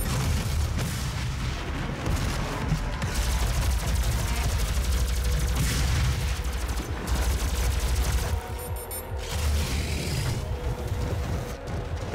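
Gunfire in the Doom 2016 video game, dense, booming shotgun blasts and explosions in rapid succession, loud and continuous with brief lulls, under occasional talking.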